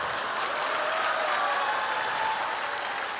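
A church audience at a thanksgiving-night testimony event applauds in a steady, dense wash of clapping that holds at an even level for a few seconds, with no speech over it.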